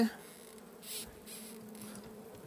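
Honeybees lift off a hive being opened for a spring inspection. A close, steady insect buzzing hums, swelling faintly as individual bees pass near.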